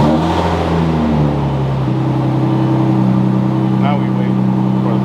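A 2016-era Audi S4 engine turns over and catches, settling into a steady, loud idle hum close by, with a person talking over it.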